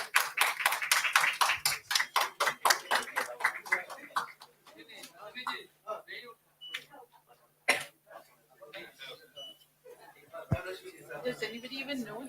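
An audience welcomes panel speakers at a literary event with a loud burst of sustained rhythmic applause, which fades into scattered claps, coughs and murmured talk.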